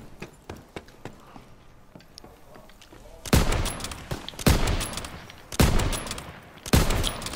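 Gunfire from a World War 2 video game in a 1v1 match: quiet clicks and faint shots at first, then four loud, sharp bursts of shots in quick succession with brief gaps between them.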